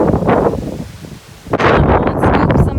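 Wind blowing hard outdoors in gusts and buffeting the microphone, with a brief lull midway before a strong rush returns, rustling loudly and close.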